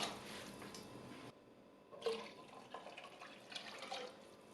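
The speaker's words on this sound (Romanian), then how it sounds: "După 2-3 minute, adăugăm peste ele 2 litri și jumătate cu apă." Two and a half litres of water are poured into a pot of lightly softened vegetables for zucchini soup, making a soft, running splash that breaks off briefly and then resumes with uneven gurgles, fairly faint and without speech.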